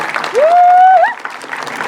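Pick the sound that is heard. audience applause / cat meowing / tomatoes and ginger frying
audience applause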